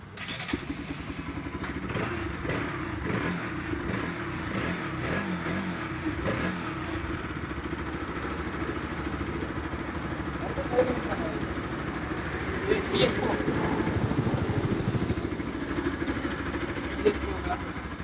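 A Bajaj Pulsar NS 200 motorcycle engine runs at a steady idle, a continuous close rumble with slight revs, while someone talks over it.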